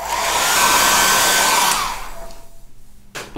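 A hair dryer blows steadily at close range to dry a watercolor sunset painting, a loud even whoosh that cuts off after about two seconds, leaving a quiet room and a brief clatter at the end.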